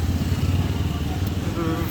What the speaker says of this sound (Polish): No a tutaj jest zdecydowana przewaga skuterów.